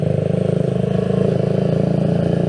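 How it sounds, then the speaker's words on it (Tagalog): A Keeway CR152 motorcycle engine idles loudly and steadily nearby, with a rapid even pulsing throb that holds throughout and no talk over it. "At maingay ang motor ko."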